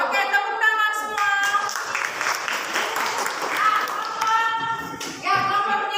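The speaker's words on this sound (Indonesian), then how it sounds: "Oke, tepuk tangan semua." A school class claps hands together, steady group clapping mixed with children's voices and calls, busy and lively throughout.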